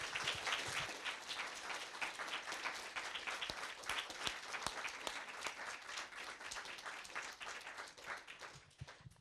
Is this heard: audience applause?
yes